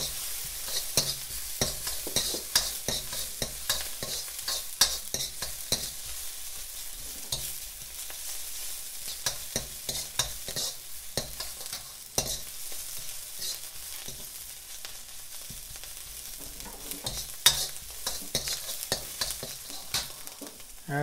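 Chili paste and green chilies are stirred in a frying pan for vegetable momos, an irregular series of close scraping, clattering stirs over a low sizzle, with no voices.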